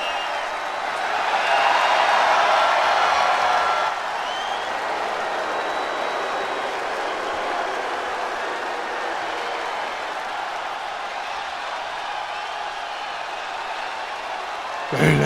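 A large wrestling arena crowd at a SmackDown title match in St. Petersburg cheers, swelling to a louder roar early on and then holding as a steady, dense wash of noise beneath a commentator talking.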